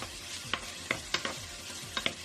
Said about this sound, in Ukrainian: підчеревина, сало, кидаємо в каструлю і залишаємо вжарюватися. Помішуємо.